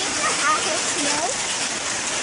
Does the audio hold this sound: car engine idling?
no